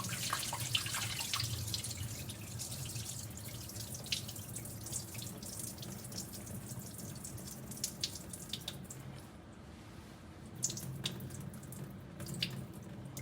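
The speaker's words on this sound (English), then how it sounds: "there's still some stuff that I have to wash off of it" Ackee rinsed under running kitchen tap water, a steady faint stream splashing into a sink with small drips and shifting bursts as the food is moved, no speech.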